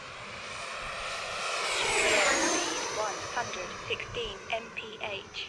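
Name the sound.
RC E-Flite Viper 90mm jet at full throttle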